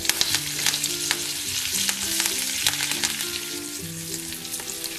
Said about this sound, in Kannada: ನನಗೆ 2 ಸ್ಪೂನಷ್ಟು ಎಣ್ಣೆ ಹಾಕ್ತಾ ಇದ್ದೀನಿ, ಸಾಸಿವೆ, ಜೀರಿಗೆ, ಸ್ವಲ್ಪ ಚಿಟಗುಟ್ಟಿ